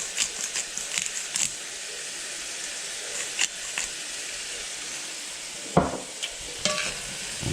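Food with bacon frying in a pan sizzles steadily while a utensil scrapes and clatters in irregular stirring strokes, a few sharper knocks standing out near the end as pepper is mixed in.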